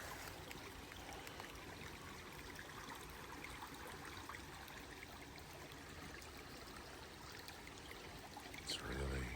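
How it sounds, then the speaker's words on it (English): Continuous rushing of a swollen creek, water flowing steadily and fairly quietly, with a brief louder splash or knock near the end. "I've never seen this much water in this creek."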